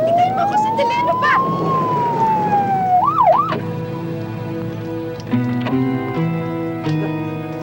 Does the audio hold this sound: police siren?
yes